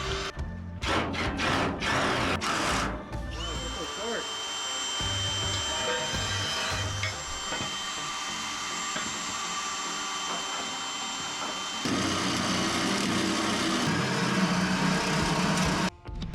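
Drilling pilot holes into the steel bed of a 1949 International KB2 truck: a loud, continuous motorized whine with scattered clanks, holding steady before rising slightly near the end, with no talk.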